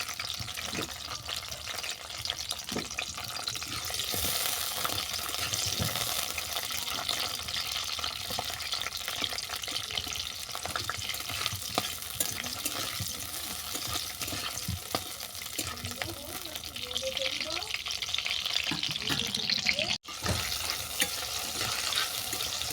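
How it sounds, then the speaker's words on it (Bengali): Onion, garlic, green chili, tomato and dried chili frying in oil for a hilsa fish oil bharta, giving a steady broadband sizzle with occasional stirring scrapes throughout, close and continuous with no talking. "খুব কড়া করে ভাজিনি তিন চার মিনিটের মতো ভেজেছি"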